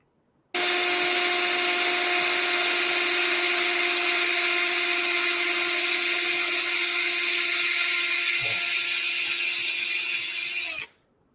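A high-pitched power drill whines steadily and loudly for about ten seconds, with a brief dip near the end before cutting off abruptly.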